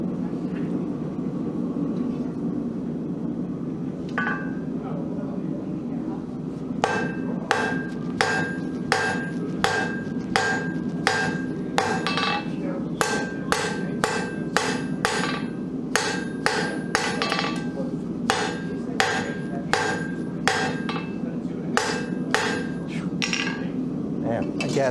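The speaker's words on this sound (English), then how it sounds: "we're going to use the edge of the anvil to create a little notch with half on," Blacksmith hammer blows ringing on an anvil edge to notch gas-forge-heated stock, a steady run of sharp metallic strikes over a constant forge roar, starting sparse and then coming fast and rhythmic.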